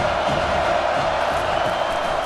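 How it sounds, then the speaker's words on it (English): A stadium crowd in EA College Football 25 roars and cheers steadily on a third down, a dense, continuous wall of sound with no pause. "Third down, and this crowd is tearing the lid off this place."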